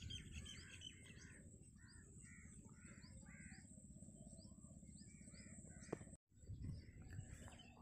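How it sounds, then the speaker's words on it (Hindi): Early-morning birdsong in a rural village, with steady chirping and tweeting from many birds on all sides and crows cawing among them, all over a continuous low ambient hum. A brief sharp click and a short dropout come near the end. "चारों तरफ से परिंदों की आवाज़ें आ रही होती हैं"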